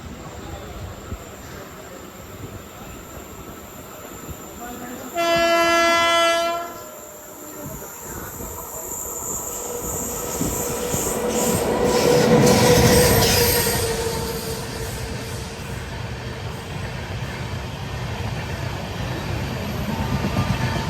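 Passenger train rumble fills Madukkarai station as a horn blares briefly, followed by a swelling, rushing pass of carriages with squealing wheels, then steady rolling noise; the train is the Coimbatore–Shoranur MEMU.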